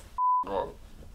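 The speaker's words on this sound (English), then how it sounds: "it's just gonna be like, beep beep beep beep beep beep beep." A single sharp censor beep over swearing, loud and steady for about a quarter second, with a voice talking on either side of it.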